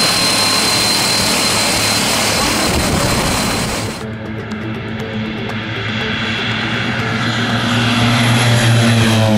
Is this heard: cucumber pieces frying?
no